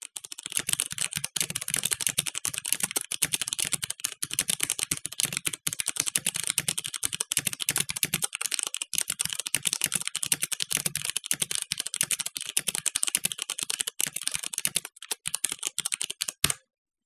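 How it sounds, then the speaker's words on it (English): The mechanical keyboard of an MSI Titan GT80 gaming laptop rattles with fast, continuous typing, close and crisp key clicks pouring out nonstop before stopping abruptly at the end. "The keyboard feels sturdy and durable, and there's an audible click when you press a key."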